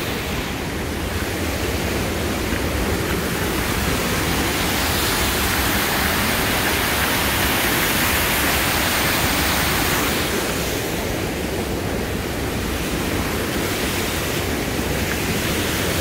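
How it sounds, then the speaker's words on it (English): Sabbath Falls, a waterfall on Sabbath Brook, pours in a steady broadband roar, loud and continuous throughout with no talk over it. "Oh, look at that falls there."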